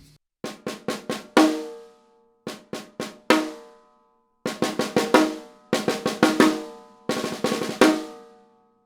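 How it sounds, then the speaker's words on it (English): A freshly tuned snare drum gives crisp, snappy hits in five short bursts of quick strokes, each run ending on a ringing accent, played close and alone with no talking. "This gives a nice crisp clean snap when you're hitting the snare"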